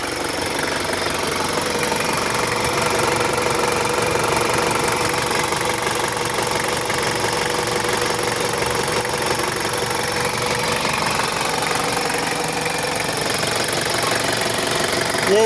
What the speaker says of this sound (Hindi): गाड़ी का इंजन ओवरऑल हो गया, जबरदस्त कंप्लीट कर दिया, रेडी है